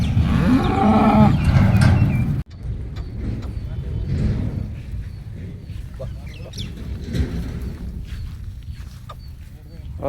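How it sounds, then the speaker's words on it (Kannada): Dairy cows of a high-milk-yield breed moo loudly at close range at a farm near Davangere, followed by quieter barn ambience with intermittent people talking and scattered background noises. "ಸ್ನೇಹಿತರೆ ಹಸುಗಳು ಹೇಗಿದೆ"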